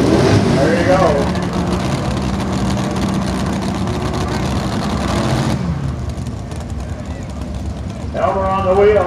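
Engine of the Drunken Deere pulling tractor at an open A class tractor pull, a loud continuous roar that drops off partway through, with an announcer talking over it.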